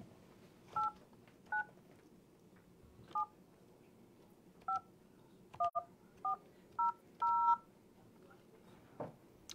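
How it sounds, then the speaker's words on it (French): Telephone keypad tones as a number is dialed, starting with a 0 for an outside line, a series of short, clear beeps spaced irregularly over quiet room noise with a faint voice in the background. "Je te laisse composer en commençant par le 0 pour sortir."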